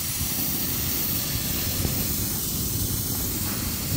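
Brake cleaner sprayed from an aerosol can onto an outdoor bonfire, a loud continuous hissing rush that holds steady for several seconds with no talking.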